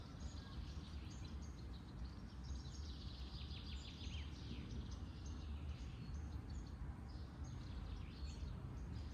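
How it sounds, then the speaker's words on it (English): Birds chirp and twitter steadily outdoors during a yoga session, moderately distant and continuous over a low background rumble. "Sound of the birds"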